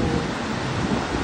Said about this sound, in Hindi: यहाँ पर खतरनाक तरीके से पानी चल रहा है।